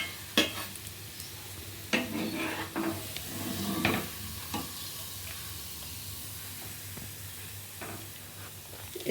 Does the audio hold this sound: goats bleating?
no